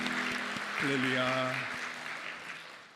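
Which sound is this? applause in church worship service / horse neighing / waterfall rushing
applause in church worship service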